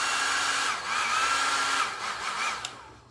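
A handheld hair dryer runs steadily at close range, a continuous airy whoosh with a whining motor tone that wavers slightly, heard alone with no talk.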